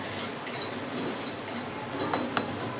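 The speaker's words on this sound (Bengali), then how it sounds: "হলুদ আর কাশ্মীরি লঙ্কার গুঁড়ো দিয়ে কিন্তু আমি একটু নেড়ে দিলাম।" Turmeric and Kashmiri chili powder are stirred in a pan, making a steady soft sizzle and scraping with a couple of light metallic clinks of the utensil near the end.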